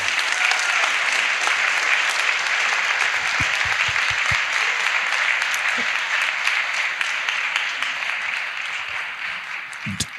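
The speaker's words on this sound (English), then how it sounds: "Let's give all of our candidates a hand clap." Audience applause for county executive candidates at a Prince George's County forum, sustained dense clapping filling the room, steady and loud before slowly thinning toward the end.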